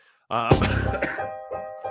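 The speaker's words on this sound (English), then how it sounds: "Almost made it without a cough." A single close, raspy cough bursts out, followed by a couple of smaller throaty hacks.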